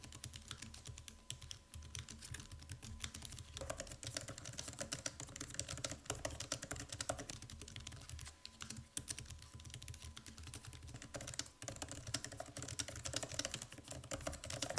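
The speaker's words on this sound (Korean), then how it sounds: "이쯤에서 키 소음도 잠시 들려드릴게요." Steady, light clicking of typing on a Logitech Flip Folio thin iPad keyboard, continuous and close, with a thin, airy key sound and no voices.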